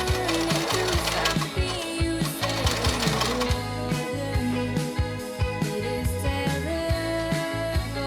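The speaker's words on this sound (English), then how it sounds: "I'm actually just doing a gather stitch to gather the skirt" A sewing machine runs a long gather stitch along the fabric of a sky blue flower girl dress skirt, with its needle clattering in a fast, steady rhythm, close and loud, throughout with no talk.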